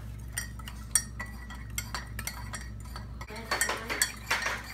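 Homemade slime with borax stirred in a bowl, heard as a close run of quick utensil clinks and scrapes against the container, growing busier and louder toward the end, with faint voices in the background.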